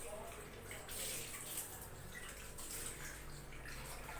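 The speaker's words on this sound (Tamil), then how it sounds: "என்கிட்ட இந்த பவுலை வந்து நல்லா வாஷ் பண்ணிக்கோங்க." Running water splashes steadily as a bowl is rinsed and scrubbed, with soft clinks and gurgles close by, continuing without pause.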